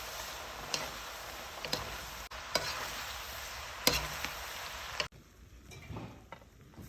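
Lettuce wrap filling with sauce and rice cooking wine is mixed in a hot pan, a continuous sizzle with several clicking spatula scrapes, then the frying drops abruptly quieter for the last seconds; no one speaks.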